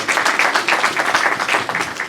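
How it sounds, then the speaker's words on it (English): An audience in a High Court lecture room applauds an honourable justice, a steady burst of brisk clapping heard close and evenly throughout the short stretch. "A big applause for this, Honorable Mr. Justice"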